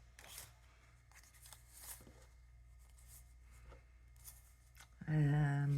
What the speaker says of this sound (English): Let's cut a piece of this off. Fabric scissors.